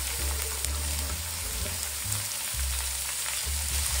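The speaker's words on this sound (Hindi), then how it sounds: "इसके साथ में डाल दूंगी बंद गोभी।" Cabbage and capsicum sizzle and fry alongside carrots in a pan for chicken chow mein, a steady close hiss with low rumbling bursts throughout.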